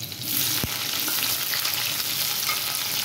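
Cumin, green chillies and onion hit hot oil in a pan, bursting into a loud, steady close sizzle with a sharp clack of a spoon early on, no voice over it.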